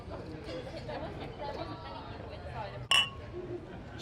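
A single sharp clink of glasses raised in a toast at the Royal Navy Volunteer pub on King Street in Bristol, outdoor seating, rising briefly out of a steady background of crowd chatter.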